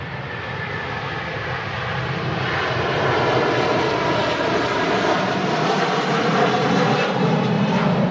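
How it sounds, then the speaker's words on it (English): Aircraft engines roar steadily at Manchester Airport as planes taxi out, producing a loud, continuous broadband rumble that slowly swells over the span with no talk. "A lot of aircraft taxiing out now, getting really busy."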